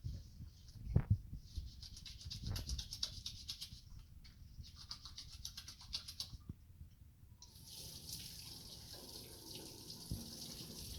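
Tap water runs quietly into a sink during a basic hand wash, with a soft, fairly faint splashing, a few louder knocks and bumps, and a brighter gush of flow near the end.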